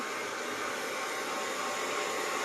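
A steady, close whooshing hum from a hair dryer blowing on hair, running unbroken throughout with no talk.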